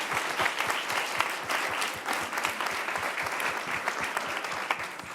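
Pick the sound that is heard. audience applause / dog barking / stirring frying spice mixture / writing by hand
audience applause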